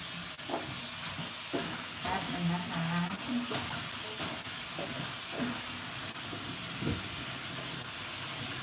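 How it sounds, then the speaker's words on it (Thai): Steady hiss of water boiling in a pot for Thai tom yum soup, with someone talking in Thai over it and occasional clinks of kitchen utensils. "น้ำเดือดน้ำเดือด"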